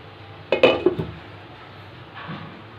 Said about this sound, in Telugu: ఈ ప్లేట్ని గిన్నెలో పెట్టాలి.